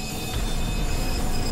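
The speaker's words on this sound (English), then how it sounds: "but their train is still pushing us!" An enemy train in the Bulletstorm video game rumbles loudly and continuously, with broadband rail noise and a high, steady metallic whine over the roar, close and alone.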